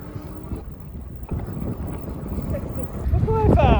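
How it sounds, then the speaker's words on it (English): Wind buffets the microphone during an outdoor ride on a fat tire e-bike, giving a low, gusty rumble that grows stronger toward the end. Brief speech-like sounds come through near the close. "the wind's kind of blowing"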